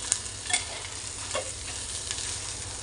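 Brinjal is sautéed in spice masala for a spicy village-style curry, a soft and fairly quiet sizzle with a few light clinks of the spoon against the pan.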